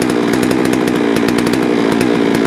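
A new chainsaw engine in its break-in period, running on 35:1 fuel mix and warming up, drones steadily and loudly at close range for the whole stretch, with no one speaking.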